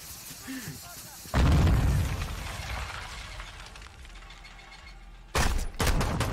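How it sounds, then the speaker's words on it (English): A grenade explodes in Call of Duty MW2: a sudden loud broadband blast at about 1.3 seconds that rumbles and decays, followed by a second burst of blasts near the end over steady game noise. "Oh, grenade!"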